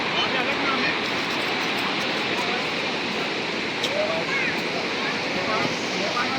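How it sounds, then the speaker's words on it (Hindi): The Kali river surges loudly beneath the bridge on the India–Nepal border, a dense, constant roar, with a voice faintly audible over the flowing water. "आपको आवाज़ भी सुनाई दे रही होगी नदी की"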